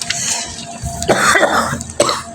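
A couple of harsh, close coughs with a throat-clearing rasp, bursting out in short bouts and then trailing off.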